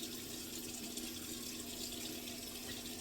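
Hot water runs steadily from a tap in a shower or sink during a shave, a continuous close hiss with no break and no talk.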